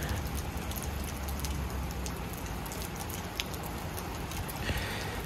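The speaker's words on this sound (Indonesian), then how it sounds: "kota Kyoto sedang disambut dengan hujan yang sangat deras sekali" Steady, dense heavy rain hiss in Kyoto, Japan, with a low rumble beneath, constant throughout, with occasional faint drips or taps.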